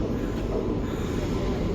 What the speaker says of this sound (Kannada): ನೋಡ್ರಿ, ಟ್ರೈನ್ ಈಗ ಕೆಂಗೇರಿ ಸ್ಟೇಷನ್ಗೆ ಅಪ್ರೋಚ್ ಆಗತೈತಿ.